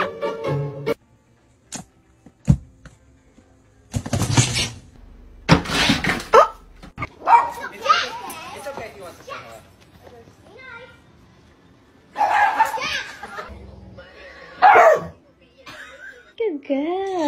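A puppy in a funny-animals compilation gives a few short, yappy barks in scattered bursts, mixed in among frequent talking and other clip noise.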